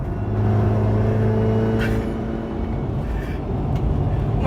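An automatic car with paddle shifters is driven, its engine humming in a steady in-cabin drone with a tonal whine that shifts pitch, plus a couple of brief clicks.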